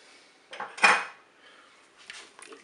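A utensil stirs filet mignon with Boursin cheese in a Cookeo pressure cooker pot, a couple of brief close scrapes and clanks against the metal pot, with fainter scraping afterward.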